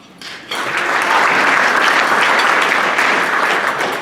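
Applause breaks out for a new board member at a Rotary club meeting, starting softly and swelling after half a second into steady, dense clapping from a room full of people that holds strong to the end.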